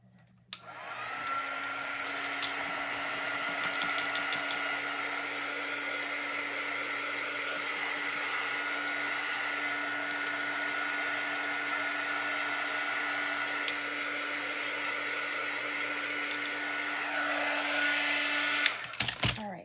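Hair dryer blowing steadily on chalk paste over a patriotic beaded star craft, a loud continuous whoosh with a droning hum running almost twenty seconds before cutting off.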